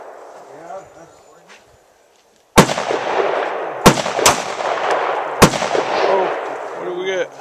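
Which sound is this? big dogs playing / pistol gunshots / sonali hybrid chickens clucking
pistol gunshots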